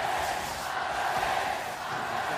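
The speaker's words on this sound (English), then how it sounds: "Feel the crowd only getting louder." A large esports arena crowd at a League of Legends World Championship quarterfinal, Team WE vs Cloud9 in 2017, roars in a loud, continuous wall of cheering that swells slightly and never drops.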